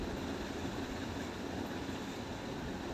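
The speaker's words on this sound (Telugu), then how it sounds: "ఇది మదన్ మహల్ రైల్వే స్టేషన్" A train at Madan Mahal railway station gives a steady, close, broadband rumble with a faint rail clatter, unbroken and with no voices.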